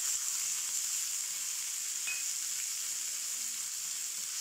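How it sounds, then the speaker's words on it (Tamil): Steady, loud sizzling of chopped onions frying in hot oil for potato masala, a continuous hiss with a faint clink of a utensil partway through. "இப்போ இதை நல்லா வதக்கிக்கிடுவோம்."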